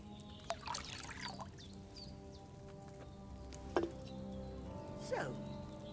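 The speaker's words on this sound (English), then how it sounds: "So, what did you pour in there? Wine, of course." In Kingdom Come: Deliverance 2, wine is poured from a pitcher into a cauldron, a faint liquid splash and trickle with a few clinks against a quiet backdrop.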